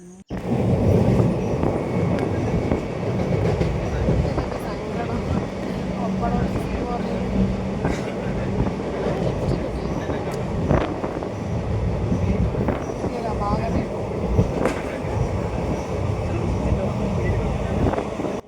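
A continuous loud rumble of a moving train between Mavelikara and Irinjalakuda, Kerala, fills the space, with steady rattling and a few scattered voices underneath.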